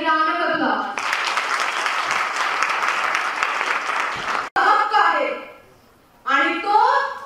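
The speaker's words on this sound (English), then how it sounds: "Let's give her a big round of applause." An audience at a college event honouring Lokmanya Tilak breaks into loud, dense applause lasting a few seconds, with a voice speaking over a microphone just before and after.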